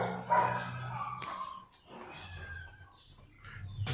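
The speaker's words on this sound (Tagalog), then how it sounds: "aso, ibon." A dog barks and yips a few times at a distance, with faint bird chirps in a quiet outdoor setting.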